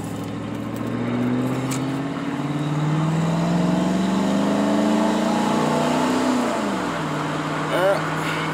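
A car launched at full throttle from a standstill with torque management disabled, its engine rising steadily in pitch for several seconds, then dropping as it shifts, loud and close.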